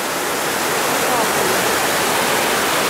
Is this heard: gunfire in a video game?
no